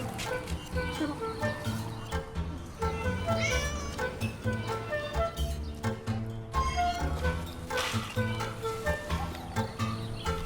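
Cats in a Chinese city public park meow repeatedly while being fed, their cries close and frequent over a rhythmic background, with a person talking softly to them in between.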